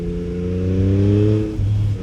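A Yamaha MT-09 SP motorcycle engine cruising on and off throttle, a steady droning tone that swells slightly, dips briefly, then returns, loud and close.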